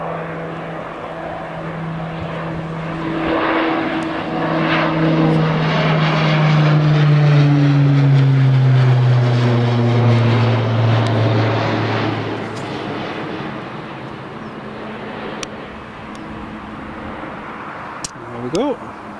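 An Eastern Airways Jetstream turboprop departs Newcastle International Airport, a loud propeller drone with a falling pitch that swells to a peak and then slowly fades into the distance as the aircraft climbs away.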